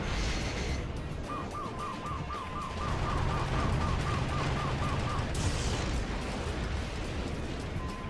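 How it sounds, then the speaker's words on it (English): Heavy, rumbling explosions in the Metal Wolf Chaos XD video game rolling on continuously, with a rapid series of short mechanical pops layered over the booming mid-section. "Those ones are big explosions."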